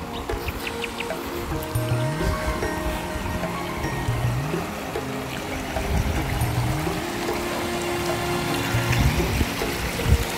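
Water flowing at an outdoor bathing spot in summer: a steady, moderate rushing and trickling stream with birds calling and a rooster crowing intermittently in the background.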